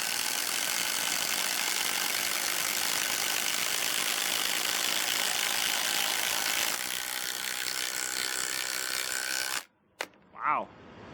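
Brushless impact driver driving a screw, a sustained rapid mechanical hammering and whirring that runs for about nine seconds before stopping abruptly, followed by a short voice.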